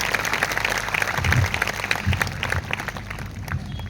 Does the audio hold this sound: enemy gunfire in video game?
no